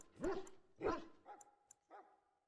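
A dog in Dragon Age: Origins gives two sharp barks followed by two softer yips, set against a quiet game background.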